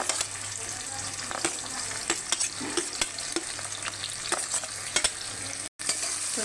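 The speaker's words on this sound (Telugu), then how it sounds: "ఆయిల్ మరిగాక ఉల్లిపాయ ముక్కలు పచ్చిమిర్చి ముక్కలు వేసేద్దామండి" Chopped onion and green chillies fry in hot oil inside a pressure cooker, a continuous close crackle broken by sharp pops and spatters, with a brief dropout near the end.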